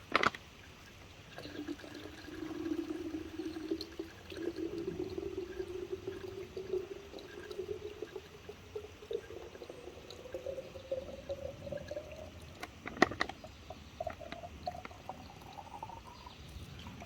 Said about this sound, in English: Fill bag with water.